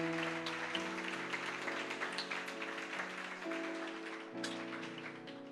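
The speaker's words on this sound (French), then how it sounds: "Applaudis le plus fort." A church congregation claps together, a steady dense patter of hands under sustained organ or keyboard chords that shift in pitch, moderately loud and continuous throughout.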